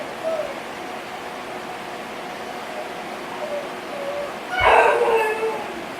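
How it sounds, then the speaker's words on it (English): A dog left outside by neighbours gives faint, distant whimpers and yips, then one louder bark-like burst near the end, heard from indoors over a quiet background. "They leave their dog outside."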